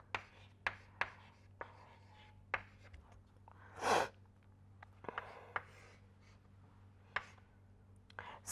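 Writing on a board during an aerodynamics lecture, marked by irregular sharp taps and short scratches of strokes with a steady low hum behind and a brief breathy noise midway.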